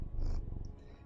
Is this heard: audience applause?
no